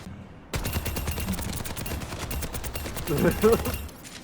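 Rapid gunfire from the shooter game Overwatch 2, with sustained bursts of shots rattling through a dense mix of in-game effects, opening after a short quiet lead-in and peaking near the end.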